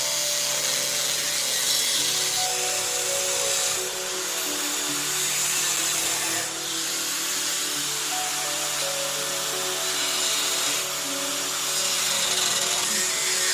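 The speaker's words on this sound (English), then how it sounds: "I'm just cutting some squares within the subframe and then hammering the flaps down" A steady, loud grinding whine of a power tool cutting squares into a Ferrari's metal subframe, continuous with slight pitch shifts and no talking.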